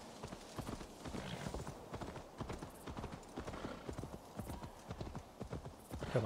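Galloping horse hooves in Assassin's Creed Valhalla pound out a steady, prominent rhythm for several seconds, with a brief whinny and only faint background talk.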